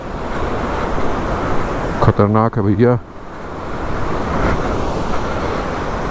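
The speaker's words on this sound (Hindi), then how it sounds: "पानी का फ्लो देखो" Rushing river water pours past a damaged bridge on the monsoon road from Kaza to Chandrataal, a loud steady broadband roar filling the whole clip while someone speaks briefly in the middle.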